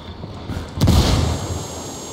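A grenade goes off in a military shooter game, one sharp booming blast that rises out of low ambient noise and leaves a rumbling tail.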